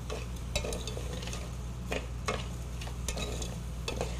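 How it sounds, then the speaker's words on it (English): Soft steady sizzling of onion frying in a pan, broken by several sharp scraping clicks of a utensil stirring against the pan. "Hear it sizzle?"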